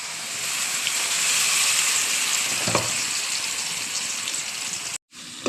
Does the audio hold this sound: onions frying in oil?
yes